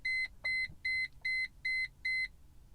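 A Mercedes E320 W210 instrument cluster gives six evenly spaced electronic beeps, clear and close, while the reset button is held down in the quiet car cabin.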